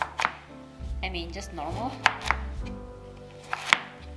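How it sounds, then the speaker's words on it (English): Knife chops carrots on a board in a few sharp, distinct cuts spaced irregularly, close and clear, while a person talks briefly in between. "We're going to cut the carrots."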